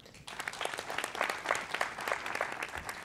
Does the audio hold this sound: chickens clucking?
no